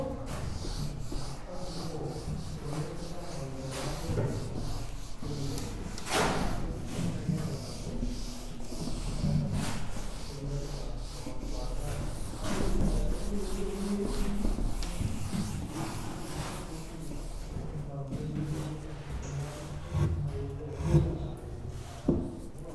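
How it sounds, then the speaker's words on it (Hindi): Eraser rubbed back and forth on paper during a shorthand lesson, a soft continuous rasping scrub that stays close and steady for a long stretch with no talk over it. "रब कर रहा हूं मैं इसको"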